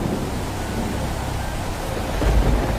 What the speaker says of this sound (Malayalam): തോരാത്ത മഴ, നിലയ്ക്കാത്ത കൊടുങ്കാറ്റ്